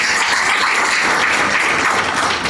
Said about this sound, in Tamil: நல்ல சந்தோஷமா கைத்தட்டலாம் ஐயா